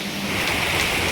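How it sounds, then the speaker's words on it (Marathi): Heavy monsoon rain pours down steadily on the road to the Ekvira temple, a dense, even hiss with no pauses, fairly close and without any voices. "खूप पाऊस आहे यार, तुम्हाला दिसत पण असेल ना किती पाऊस आहे."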